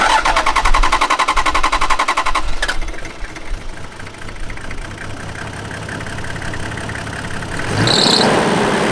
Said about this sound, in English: The motor can do the rest of the work